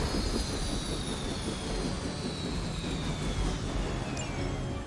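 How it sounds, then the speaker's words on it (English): A helicopter in Marvel's Midnight Suns goes down as a steady, loud engine roar with a high descending whine, holding level throughout with no speech. "You've grounded the helicopter."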